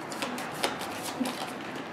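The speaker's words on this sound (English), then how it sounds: "so now you gotta shuffle" Playing cards are shuffled by hand during a board game, a few soft riffling bursts and light taps, fairly quiet and close.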